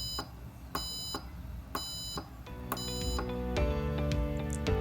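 An Arduino buzzer module beeping in short, evenly spaced electronic tones, fairly close and clean, with a steadier sustained tone building toward the end.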